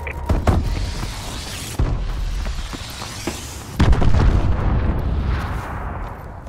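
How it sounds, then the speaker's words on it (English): Missile strike explosions in the shooter Call of Duty: Advanced Warfare, played on the Comeback map, landing as several loud, close booms with sharp onsets and rumbling tails over ongoing gunfire. "Friendly missile strikes inbound."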